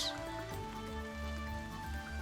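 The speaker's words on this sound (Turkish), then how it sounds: "yağmur başladı" Soft rain patter begins in the cat cooking game Cats & Soup, a steady light drizzle layered over gentle looping background music with no voices.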